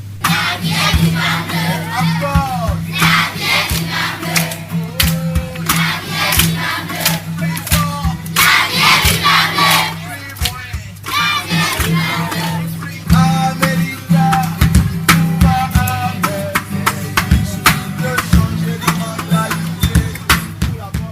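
A lively audience of children and adults at a children's show chatters and shouts, with bursts of excited cries and some clapping, loud and close throughout.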